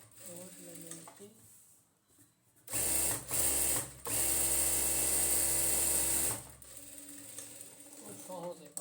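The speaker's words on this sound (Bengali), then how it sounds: "ডবল সেলাই দিয়ে নিচ্ছি" A sewing machine runs a double row of stitches along a palazzo pajama hem in bursts: a short run, a brief stop, then a longer loud whir, with quieter mechanical sounds before and after.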